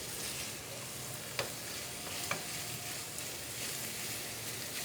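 Sliced onions fry for bhindi masala in a pan with a soft, steady sizzle, broken by a couple of faint clicks of stirring, close and quiet with no voices.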